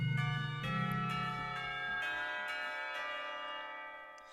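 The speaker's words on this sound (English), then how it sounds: "the bell suddenly rings, heralding an end to the lunch break" A school bell in the visual novel Katawa Shoujo rings out to end the lunch break, one sustained metallic peal with rich ringing overtones that slowly fades, heard alone.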